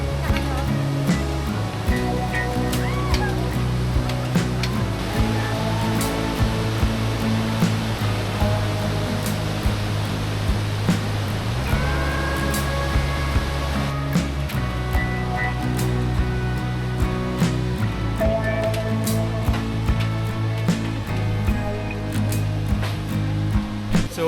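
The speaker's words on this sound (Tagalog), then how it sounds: "Sa baba, lakas ng tubig." Strong river water rushes below a high swinging bridge near Buscalan village, a steady, loud, broadband roar that fills the whole clip, with a faint voice now and then.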